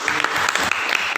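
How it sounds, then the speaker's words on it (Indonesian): Audience applause for a student in a classroom, a short burst of dense clapping lasting about a second. "Kasih tepuk tangan dong untuk"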